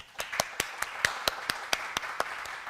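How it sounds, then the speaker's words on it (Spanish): Sparse, evenly spaced hand claps, about a dozen distinct sharp claps at a steady rhythm, as a small group applauds students and teachers at an academic event. "Un aplauso para todos ustedes."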